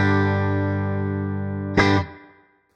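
A clean electric guitar, a Fender Stratocaster played through a Helix Native model of a Fender Twin Reverb amp, rings out a sustained chord that slowly decays, then a second sharp strum lands near the end and fades away.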